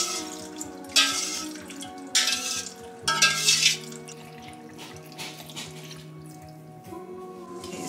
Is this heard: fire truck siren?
no